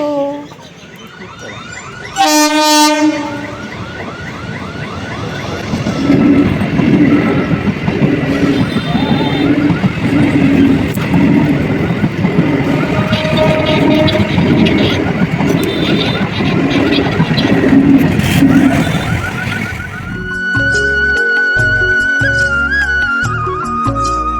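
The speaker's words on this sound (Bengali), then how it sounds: "ট্রেন আসছে" A train rolls past a closed level-crossing gate, its loud steady rumble and rattling wagons filling most of the passage before fading away.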